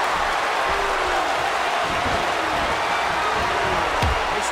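A steady wash of crowd cheering and applause in the wrestling video game WWE 2K15 fills the arena without a break, with a faint thump near the end.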